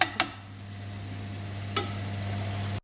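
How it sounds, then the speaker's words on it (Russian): Funchoza glass noodles with sesame and pepper are stirred in a frying pan. A steady sizzle runs under two sharp scraping clacks of the utensil against the pan, close and fairly quiet. "Перемешиваем."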